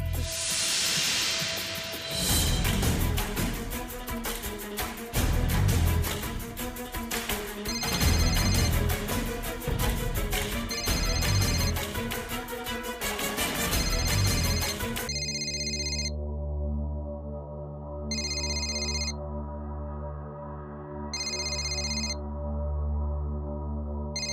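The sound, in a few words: phone ringing on an outgoing call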